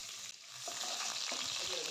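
Onion dropped into hot oil with whole cumin for an Assamese egg and potato curry, the sizzle flaring up sharply and then crackling steadily close by.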